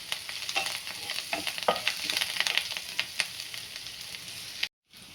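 Ingredients for a garnish for Maharashtrian baingan bharta are sautéed in a pan, a bright continuous sizzle broken by repeated scraping and stirring strokes, close up, ending in abrupt silence.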